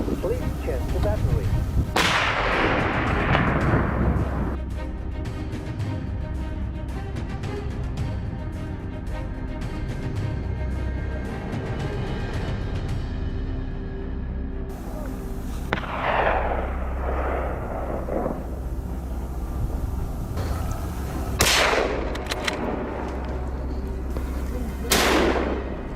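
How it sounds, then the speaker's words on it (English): Hunters' rifles fire in a frozen forest, sharp loud cracks echoing among continuous rumbling and crackling, with several distinct reports near the end. "gunfire echoed through the frozen forest"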